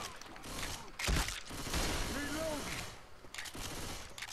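Gunfire crackles in bursts through a Left 4 Dead 2 zombie fight, a loud burst near the start and more scattered shots after, with a player's voice talking over the action.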